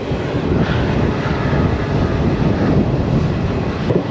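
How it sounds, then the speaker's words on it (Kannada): A WDP-4D diesel locomotive hauling the Mysuru–Talaguppa Intercity Express gives off a steady, dense roar that holds at an even loudness throughout, with no talk. "ಎಸ್ಪೆಷಲಿ ಈ WDP-4D ಆ ಇಂಜಿನ್ ನಾಯ್ಸ್ಗೆ ನೋಡಿ ಹೌಲ್ ಮಾಡ್ತಾಯಿದೆ"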